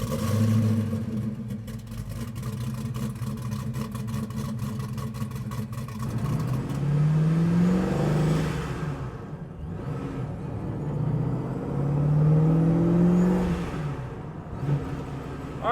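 A 1979 Chevrolet Camaro Z-28 pro-touring car with a 440 cubic inch LS engine drives along, its mid-pitched engine note rising in two strong revving pulls between steady rumbling cruising, loud and close.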